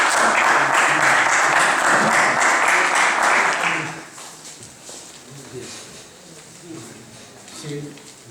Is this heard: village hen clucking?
no